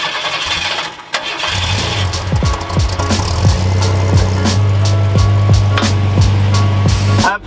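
An old barn-find pickup truck's engine cranks, catches and starts, then settles into a steady, loud, slightly rough idle with rhythmic pulses, heard up close with no talking.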